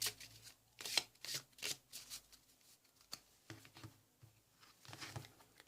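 A deck of tarot cards is shuffled and cut by hand, giving repeated crisp riffling bursts and soft card slaps in an irregular rhythm, close and clear in a quiet room.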